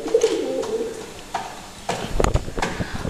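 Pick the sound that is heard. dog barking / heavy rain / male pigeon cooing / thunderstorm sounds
male pigeon cooing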